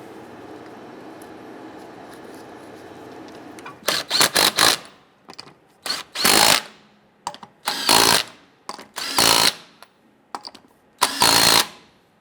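Power tool snugging down lug nuts on the rear wheel of a 1997-2006 Jeep Wrangler, heard as several short loud bursts of whirring and rattling separated by brief pauses, after a few seconds of low background hum.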